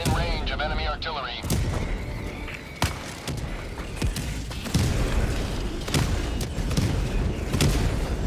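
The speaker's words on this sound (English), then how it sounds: "Warning, you are in range of enemy artillery." Enemy artillery pounding in Helldivers 2: repeated sharp booms and cracks land among steady battlefield noise, with voices speaking over the barrage.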